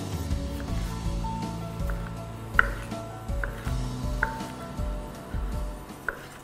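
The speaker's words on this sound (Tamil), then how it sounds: "அடுத்தது நம்மளுக்கு பச்சை மிளகா, அப்புறம் தக்காளி அதெல்லாம் வேணும். ஸோ அதுவும் நம்ம இப்போ கட் பண்ணிக்குவோம்." Green chillies and tomatoes being chopped with a knife for a prawn fry, giving soft, irregular taps on a cutting board against a low kitchen hum.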